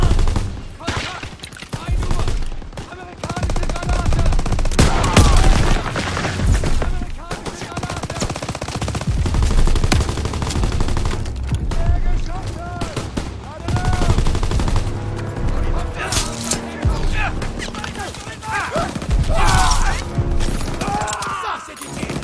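Sustained bursts of automatic gunfire and scattered shots crackle for over twenty seconds, dense and loud, with occasional French voices mixed in a Call of Duty WWII battle.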